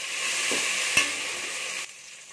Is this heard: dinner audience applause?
no